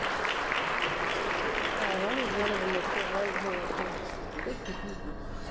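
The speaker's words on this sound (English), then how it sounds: "Let's give our sponsors a round of applause." An audience applauds sponsors at the Masters of Industry 2013 business event. The clapping is dense and sustained, with a few whistles and cheers mixed in, and it eases slightly toward the end.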